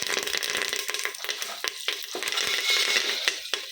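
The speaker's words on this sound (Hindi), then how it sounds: "अब इसमें कड़ी पत्ता डालेंगे।" Curry leaves drop into hot oil with ginger-garlic paste in a pan, giving a loud crackling sizzle with sharp pops and spatters and stirring scrapes throughout.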